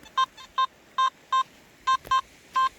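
A Simplex+ SP24 metal detector sweeping a beach gives clear, close, pure electronic beeps in short repeated pulses at an uneven rhythm, with no one talking.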